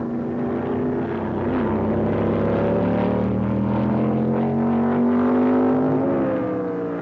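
Can-Am race cars at the 1968 Stardust Grand Prix in Las Vegas, among them a Chevy-powered McLaren, roaring past with loud sustained engine drones that rise and fall in pitch as several cars overlap nearby.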